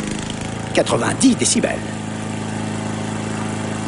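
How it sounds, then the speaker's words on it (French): Lawn mower engine droning steadily at an even pitch throughout, with a voice speaking briefly over it near the start. "Tondeuse à gazon,"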